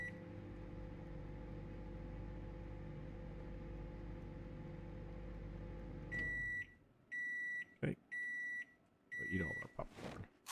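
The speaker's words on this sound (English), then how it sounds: "Instant pop popcorn into the microwave." Microwave oven cooking popcorn in the video game Project Zomboid: a steady low hum runs for about six seconds, then stops, followed by a series of four or five clear repeated beeps with short gaps.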